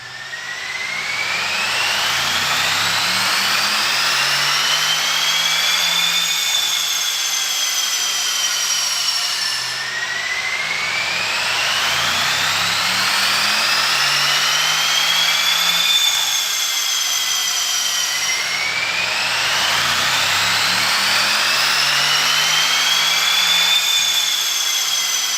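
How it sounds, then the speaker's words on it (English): A Mercedes AMG engine revs up hard on a chassis dyno in repeated full-throttle pulls, each rising in pitch with a loud roaring whine before dropping back, three runs in succession with no talk. "Affy, that AMG just sounded epic running up on the dyno"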